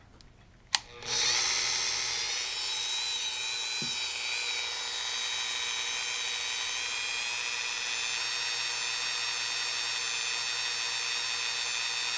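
A Dremel rotary tool runs at its lowest speed, about 5,000 RPM, on model ship work with paint and glue, starting after a click with a steady high-pitched whine that holds unchanged and fairly close.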